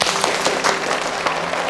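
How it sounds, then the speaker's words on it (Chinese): Classmates clap for a student in a school classroom, a dense burst of many hands that stays steady and fairly loud for the whole short stretch, with no talking over it. "大家给米桃一些掌声。"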